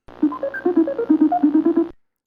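The Tic Tac Dough game-show board shuffle effect: a quick electronic run of bright, bouncing beeps with a low hum beneath it, lasting about two seconds with no talk, then stopping cleanly.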